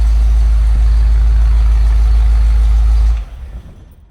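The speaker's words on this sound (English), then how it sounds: "Once it settles in, it's idling at about 800." Ford Bronco engine idling steadily at low rpm, a loud, deep continuous rumble heard up close that cuts off abruptly near the end, leaving faint residual noise.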